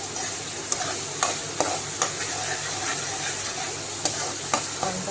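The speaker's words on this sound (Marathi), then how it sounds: "कांदा थोडासा ब्राऊनसर होईपर्यंत आपण मला फ्राय करणार आहे" Medium onions frying in a pan for pav bhaji give a steady hissing sizzle, with sharp spoon clicks against the pan at an uneven rhythm, close and fairly loud, no talk.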